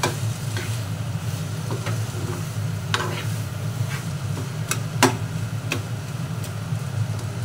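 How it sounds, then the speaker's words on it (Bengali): Rice for a Korean dish is stirred and scraped in a hot pan, with steady sizzling and scattered sharp clicks of a utensil against the pan. The sound is close and continuous, and nobody speaks. "দেখুন এইভাবে মিশিয়ে নিতে হবে।"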